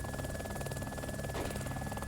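A helicopter in a shooter video game, with a player riding in it; a continuous buzzing rotor drone at moderate level, steady throughout with no clear gunfire.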